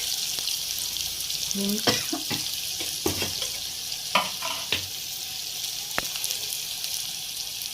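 Salt and spices, with onion and asafoetida, hit hot oil while cooking chicken vade and chicken 65, giving a steady sizzle with a few sharp clinks and stirring scrapes and faint background noise.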